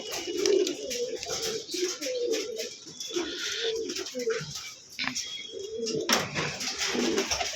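Pigeons kept for sale coo repeatedly in low, throaty rolling calls, several birds overlapping close by in a steady chorus with faint background noise.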